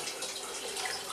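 Boiled potatoes are drained through a colander, with water pouring and splashing in a faint, brief, steady rush inside a home kitchen.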